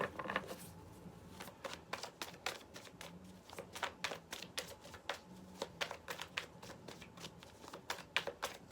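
A deck of tarot cards is shuffled over and over in a soft, rapid riffle of papery flicks and taps, close but quiet, with no voice over it.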